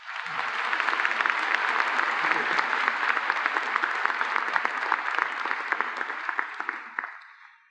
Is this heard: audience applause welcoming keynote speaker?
yes